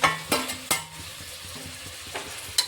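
Chopped green chillies, beetroot and tomato frying in a pan for beetroot pulao, with a soft sizzle under a few sharp utensil knocks and scrapes against the pan, spaced irregularly and fairly close.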